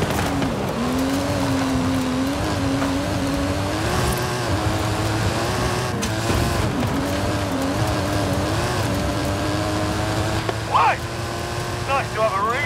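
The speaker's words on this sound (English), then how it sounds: "That stunt vehicle is a Mike Steele special." A stunt vehicle with a custom engine and suspension climbs a hill in Forza Horizon 5, its engine droning steadily and rising in pitch as it accelerates, with game dialogue over it and a brief tyre squeal near the end.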